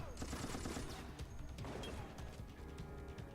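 Assault rifle fire in Resident Evil: Operation Raccoon City, dense crackling bursts and impacts with crashing clatter, loud and continuous through the short stretch.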